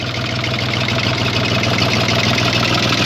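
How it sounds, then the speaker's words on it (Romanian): A 2002 Universal 453 export-model tractor with an original three-cylinder engine idles loud and close, a steady low throbbing chug with even rhythm and no voices. "Suntem la discuții cu tractorul Universal 453, modelul de export, anul de fabricație 2002."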